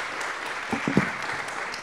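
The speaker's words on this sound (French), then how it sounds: "Vous pouvez les applaudir." The audience at a business conference applauds, a steady spread of clapping with a few louder nearby claps standing out, heard alone without talk.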